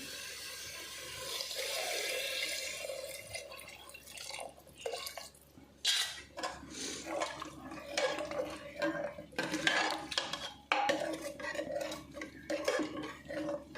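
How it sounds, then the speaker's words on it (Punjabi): Water splashes and trickles close by into a pressure cooker of potato and pea curry, with intermittent clinks of metal cookware and dripping. "ਫਿਰ ਅਸੀਂ ਇਹਦੇ ਵਿੱਚ ਪਾਣੀ ਪਾਵਾਂਗੇ ਕਰੀ ਵਾਸਤੇ"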